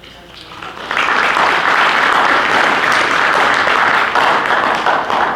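An audience in a school hall applauds after a financial-aid representative is introduced at an information night. The clapping is dense and steady, rising quickly after a softer start and holding loud for several seconds.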